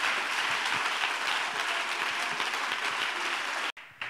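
Church audience at a testimony event breaks into loud, dense applause that holds steady for several seconds before cutting off abruptly, followed by a quieter tail.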